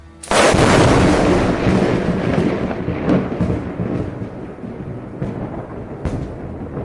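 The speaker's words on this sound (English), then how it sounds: "he casts Lightning Bolt" A lightning bolt spell effect in a fantasy tabletop battle bursts out as a sudden, loud thunderous crack, then rolls on as a long rumbling boom with several smaller crackles trailing off.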